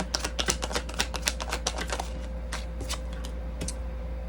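Tarot cards shuffled in quick riffling bursts, a rapid run of crisp, close flicks and taps that slows into sparser snaps, heard alone over a steady low hum.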